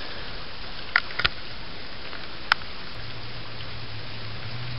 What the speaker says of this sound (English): I mean, these raindrops are fat.